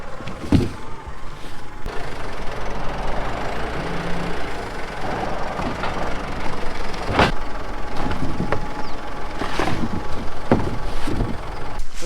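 A farm tractor with a bin mounted on its front creeps along at a slow, steady pace, its low engine rumbling continuously close by, with a few sharp clanks and knocks rising above the drone.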